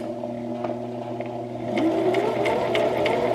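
Brother XM2701 sewing machine sews a buttonhole, a steady whirring motor hum that jumps louder partway through as it speeds up into a busy, rapid stitching rattle with rhythmic clicks.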